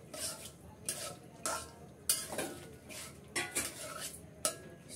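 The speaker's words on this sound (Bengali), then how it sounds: "একটু কষিয়ে নেব নেড়ে চেড়ে মশলার সাথে।" Washed lentils being stirred with spices in a metal pot, a spoon scraping and knocking against the pot in regular strokes roughly once a second, fairly quiet.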